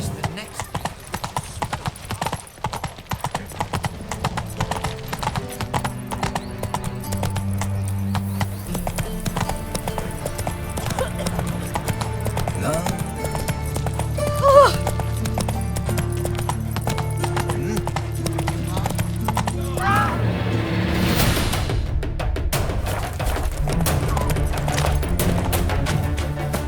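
Horse hooves clip-clop in a steady walking rhythm as Roach moves through The Witcher 3, close and continuous under ongoing speech, with a brief neigh midway.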